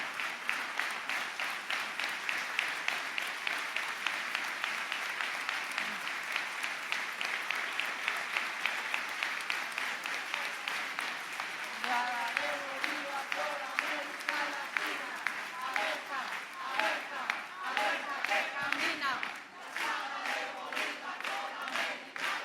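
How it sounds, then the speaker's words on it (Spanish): A crowd at a political event with a presidential candidate breaks into sustained applause, dense and rhythmic clapping lasting over twenty seconds, with cheers and shouted chants rising in the second half. "Gracias por ese aplauso"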